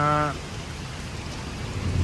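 Heavy rain pours down outdoors in a steady, dense hiss that fills the whole stretch; a short voice sounds at the very start before the downpour carries on alone.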